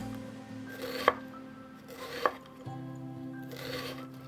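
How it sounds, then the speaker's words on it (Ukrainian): A knife chopping onion into small cubes on a board, a few distinct sharp chops spaced about a second apart with soft scraping strokes between, close and quiet over a steady background hum. "Нарізаю дрібними кубиками."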